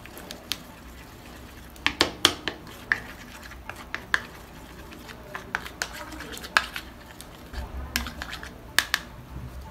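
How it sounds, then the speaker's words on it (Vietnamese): Spoon stirring a small homemade lip balm mixture of toothpaste and unsweetened yogurt, giving scattered light clicks and scrapes against the dish, close and fairly quiet, with no speech. "Sau đó chúng ta trộn hỗn hợp."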